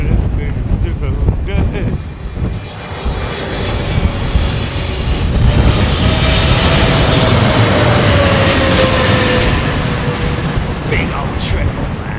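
Boeing 777 airliner on landing approach at London Heathrow in gusty wind, a steady loud jet engine roar with a slowly shifting whine under heavy wind buffeting on the microphone, with people talking nearby.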